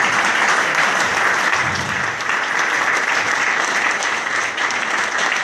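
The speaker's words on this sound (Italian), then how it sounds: "E io farei un altro bel applauso alle forze dell'ordine" A political-event audience in Italy applauds the police, a dense, steady roar of many hands clapping close by with no voices on top.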